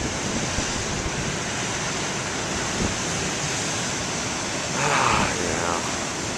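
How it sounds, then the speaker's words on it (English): Ocean waves breaking on a shore on a big-surf day, a steady broadband roar of surf filling the clip, with a brief voice rising near the end. "Check out those waves"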